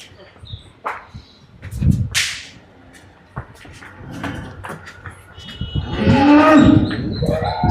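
Cattle lowing in a dairy farm shed where cows are kept for sale, several moos rising close by amid barn clatter and a sharp crack, with someone speaking at intervals.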